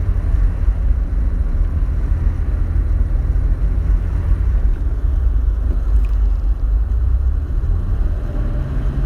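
A Porsche 964 Turbo engine drones steadily while driving, loud and close, with wind and road noise mixed in and no clear rise in pitch; no talk.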